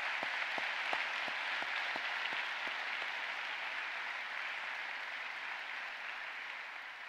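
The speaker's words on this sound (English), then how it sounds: "Let's give him a big round of applause." Audience applause at a leadership conference keynote, a steady dense wash of clapping filling the hall for about seven seconds, with a few sharper individual claps standing out early on before the sound settles into an even roar.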